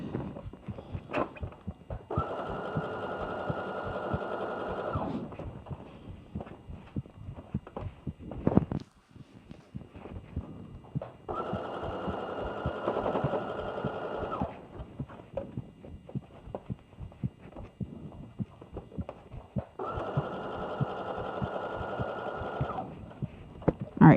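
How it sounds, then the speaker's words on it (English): A sewing machine back stitches and stitches a slip dress made from New Look 6653. It runs in three steady bursts of a few seconds each, separated by quieter handling and fabric sounds. "I'm going to back stitch and sew as far as possible to understitch."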